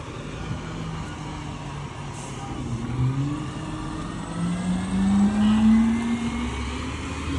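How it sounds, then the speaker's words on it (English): A truck rolls along a downtown street in Keene, New Hampshire, its engine drone rising and swelling as it passes nearby, then easing off, with steady street ambience and no talking. "This might get loud with this truck, so I'll stay quiet for a minute."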